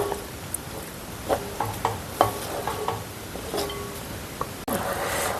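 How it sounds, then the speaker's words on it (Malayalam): Onam-style koottukari curry with coconut milk simmering in a pan, a steady bubbling sizzle broken by several sharp clinks of a spoon stirring, alone without talk. "തേങ്ങാപ്പാലൊക്കെ ഒഴിച്ച് കറി നല്ല തിളച്ച് വന്നിട്ടുണ്ട്"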